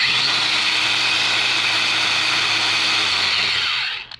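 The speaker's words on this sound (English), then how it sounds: "This is what the old one is like." An old brushed Bosch 18-volt cordless angle grinder runs at a steady high-pitched whine, close and loud, then cuts off and spins down at the end.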